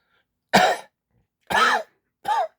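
A man coughs three times in short, sharp bursts with brief silences between, close and dry, with a throat-clearing quality and no other sound.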